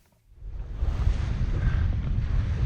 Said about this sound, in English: Oh, quite windy though.